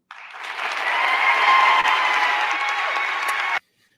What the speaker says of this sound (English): Fake applause.